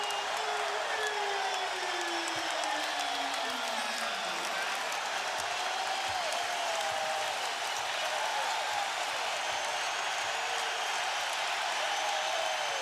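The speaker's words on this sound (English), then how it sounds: "This crowd has absolutely erupted here in the third" Basketball arena crowd at the 2008 NBA Finals Game 1, Lakers at Celtics in Boston, roaring in a sustained loud cheer and applause that fills the whole stretch without letting up.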